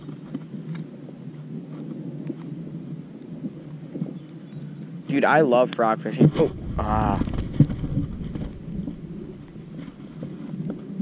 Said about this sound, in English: Whoa, that was a cool strike of lightning.